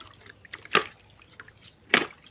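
Water splashing onto a dusty grass trimmer during washing, heard as two distinct wet bursts about a second apart against a quiet background.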